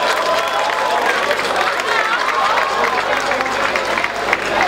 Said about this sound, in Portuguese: Uma salva de palmas, Dragões Poá!